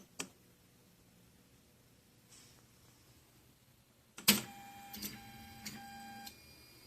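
A 3D printer homes its axes during a test after stepper drivers were replaced, giving a faint early click and then a louder burst of stepper buzzing and short whirring moves with sharp starts and stops.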